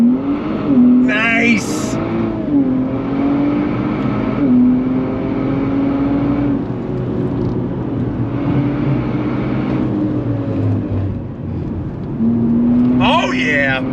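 A modified 2025 Nissan Z Sport accelerates hard on throttle in sport mode, its engine note climbing steadily in pitch and holding loud and close from inside the car, with a brief spoken word near the start.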